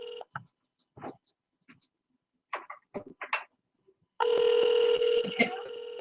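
Telephone ringing on an unanswered call, a bright electronic ring tone coming in loud near the end after scattered short voices and sounds.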